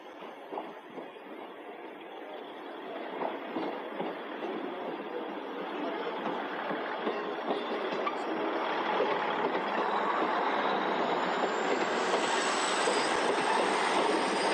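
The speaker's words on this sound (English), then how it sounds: "the route from Crewe to Gloucester saw steam in action with an excursion headed by LMS Jubilee Class 460, number 45596, Bahamas," The LMS Jubilee Class 45596 Bahamas, a double-chimney steam locomotive, passes on an excursion near Shrewsbury, a steady rolling rumble of wheels and carriages that swells louder and closer, with a thin high squeal rising near the end.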